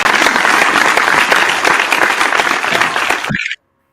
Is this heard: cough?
no